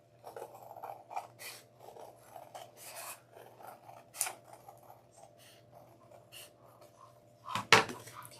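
Scissors trim adhesive glitter foam for a Candy Land top hat tree topper, giving quiet, close snips and rasping cuts in a loose irregular series, with a sharper louder snip near the end, and no voices.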